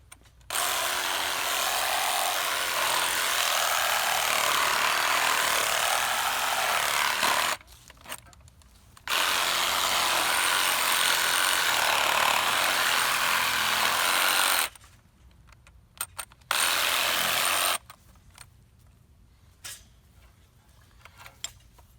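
A hand saw cutting through deer bone while butchering a deer, loud rasping strokes in long sustained bursts separated by brief pauses, close up and with no talking.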